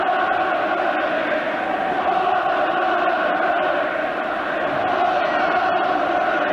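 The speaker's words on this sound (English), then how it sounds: "the unsympathetic crowd already starting to chant, "What a load of rubbish."" Large stadium crowd at a 1984 England versus Denmark European Championship qualifier, a dense continuous roar with chanting voices blending into a steady wash of sound throughout.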